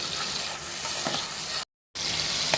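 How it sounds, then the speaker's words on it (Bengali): Tomatoes frying in a pan while being stirred, a close, steady sizzle with soft stirring scrapes, broken by a brief moment of silence before the sizzle returns. "টমেটোর কাঁচা গন্ধটা চলে যাওয়া পর্যন্ত একটু নাড়াচাড়া করে নেব।"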